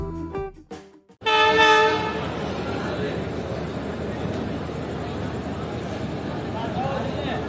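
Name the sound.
Sukkur Express train arriving at Rohri Junction platform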